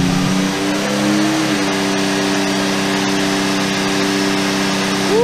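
Nissan Z31 engine with Megasquirt engine management and close to 20 psi of boost, revving at full throttle on a dyno: a loud, steady drone with strong rising harmonic tones and one more climb at the very end.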